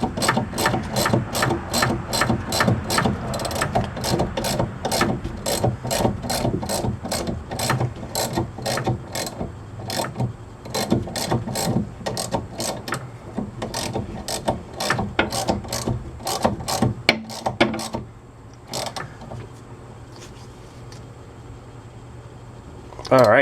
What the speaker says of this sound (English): Make sure my ratchet's spinning the right way.